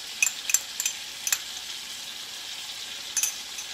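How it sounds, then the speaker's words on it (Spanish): Garlic and crushed cilantro added to potatoes frying in a pan, a steady close sizzle with several short crackling pops near the start and again near the end. "Vamos a echarle el ajo y el cilantrillo ya triturado."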